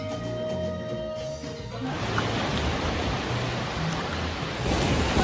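Surf washing onto a beach near Minca on the Colombian coast: a steady broadband rush of breaking waves that swells louder toward the end, with wind over the microphone and no voices.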